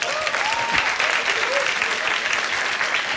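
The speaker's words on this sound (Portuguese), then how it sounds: "Palmas, assim." Dense, steady applause from a comedy show audience, a continuous wash of many hands clapping at close range, with a few voices calling out over it.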